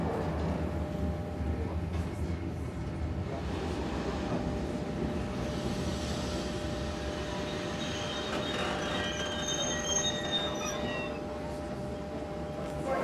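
The Amsterdam–Paris night train runs on its rails with a steady, loud rumble from inside the carriage, and thin wheel squeals and whines rise later on.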